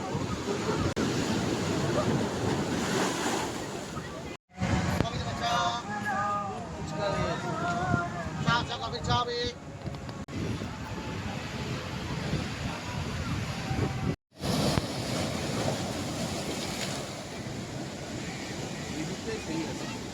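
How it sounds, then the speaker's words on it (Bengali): Sea waves break and wash up the shore at Old Digha beach in a steady, rough rush of surf, with people talking over it for much of the time. "ঢেউগুলো দেখো।"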